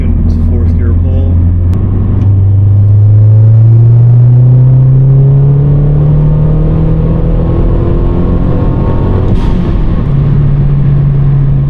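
Mazdaspeed 3 fitted with a 3-inch downpipe pulling hard in fourth gear, a loud, close engine drone climbing steadily in pitch over several seconds before easing off near the end.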